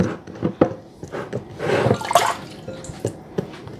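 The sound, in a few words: water running while wetting hands to shape fufu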